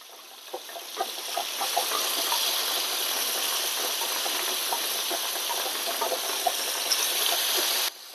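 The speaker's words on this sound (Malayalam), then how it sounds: "ചൂടായ എണ്ണയിൽ ഇടുമ്പോഴേ ഇങ്ങനെ എന്നുള്ള ഒച്ച വരുള്ളൂ" Masala-coated stuffed mussels fry in hot coconut oil, giving a steady, close hiss of sizzling with scattered small crackles and pops that holds for several seconds before cutting off abruptly.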